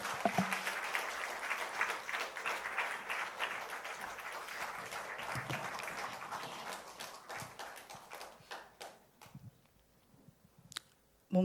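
Congregation applauding in a church, a dense wash of clapping that stays fairly steady for several seconds, then thins out and fades to near silence, with a few scattered claps near the end.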